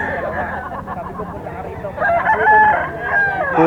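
A Sweater gamefowl rooster crows once near the end amid a noisy Bocaue poultry market, with chatter and other fowl sounds around it.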